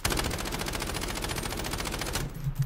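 Rapid automatic gunfire from the Warzone video game: a fast, steady stream of loud shots lasting about two seconds, then stopping abruptly into a quieter background with a couple of soft thumps.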